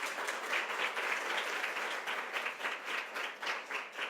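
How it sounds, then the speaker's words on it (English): A round of applause for guest speaker Dr. Homiyar Mobedji at an education event, steady dense clapping from an audience filling the hall for the whole stretch, moderately distant and even. "Let's give Dr. Homiyar Mobedji a big round of applause"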